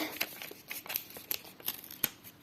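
A small handmade paper surprise packet being opened, with soft crinkling and light tearing in quick irregular bursts, close and quiet, no talking.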